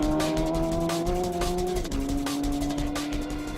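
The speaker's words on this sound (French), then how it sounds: "il lui suffit de mettre les gaz et de rester bien allongé sur sa moto" A motorcycle roars at full throttle during a world speed record attempt, its rider lying flat on the bike. The loud, steady high-pitched engine whine drops in pitch once midway, and there is no talk.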